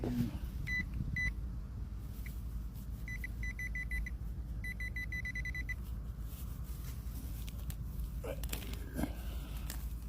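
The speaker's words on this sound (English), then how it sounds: "So I got a beep." Repeated high electronic beeps from a metal detector sweeping ground in a grassy park, coming in short bursts over steady low background rumble and wind.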